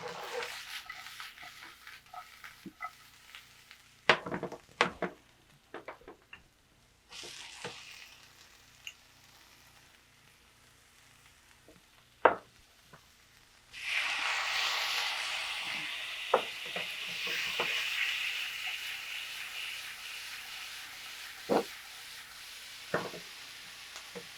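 Vegetarian sausage with spices searing in a hot pan, a steady sizzle that swells loudly in the second half, broken by sharp clinks and scrapes of utensils.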